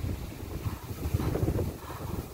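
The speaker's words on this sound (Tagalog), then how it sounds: "Lakas ng hangin, ayan, sumasayaw yung mga oat plants." Strong wind blows across an oat field as a continuous, buffeting rush that roars against the microphone without letting up.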